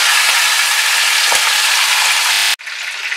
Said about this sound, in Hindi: अब हम इसे कम से कम 10 से 15 मिनट के लिए शैलो फ्राई करेंगे।